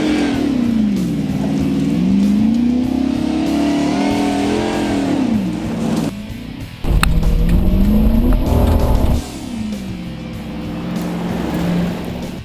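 A Chevy police car races through very soft dirt, its engine revving in long rising and falling waves as it bogs down, loud and continuous, with a brief drop and then a harsh surge midway.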